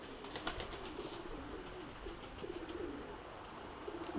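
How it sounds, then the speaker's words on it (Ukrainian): A frightened pigeon coos repeatedly in low, wavering calls, faint and at middle distance, with a few soft flutters in the background and no voices. "Голуб наляканий."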